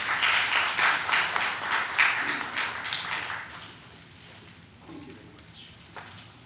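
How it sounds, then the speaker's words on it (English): Audience applause at an awards ceremony marking Constitution Day, loud crisp clapping at first that fades to sparse scattered claps, with faint low murmuring near the end. "A huge round of applause,"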